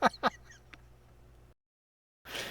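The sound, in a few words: geese honking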